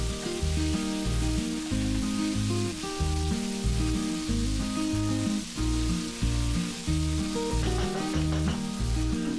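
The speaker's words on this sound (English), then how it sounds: "Then add 5 potatoes cut in cubes and fry it for about 3 to 4 minutes." Cubed potatoes fry in hot oil for an aloo palak (potato and spinach) sabji, giving a steady sizzle under loud rhythmic background music throughout.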